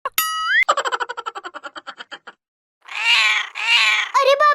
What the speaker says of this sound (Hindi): अरे बाप रे, ये बिल्ली के बच्चे कहाँ से आ गए?